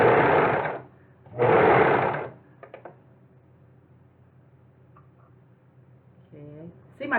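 Brother 4031 serger running thread out in two loud, even motor bursts of about a second each, close by, followed by a few small clicks and someone speaking briefly in the background.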